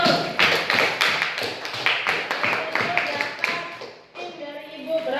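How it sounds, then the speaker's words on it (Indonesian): Classroom applause for a student group, a small group of students clapping in a quick rhythmic pattern close by, breaking off briefly near the end before a few more claps resume. "Beri tepuk tangan buat kelompoknya Mas Kenzo."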